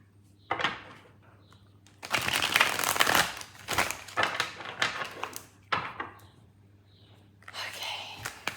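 Laminated tarot cards being shuffled, giving bursts of crisp, slapping rustles in several rounds with short pauses between, close and fairly loud.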